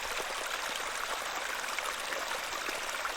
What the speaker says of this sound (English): This is a lovely little beck. It's where we get our water, miss.